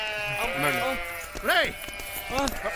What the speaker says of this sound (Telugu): గొర్రెలు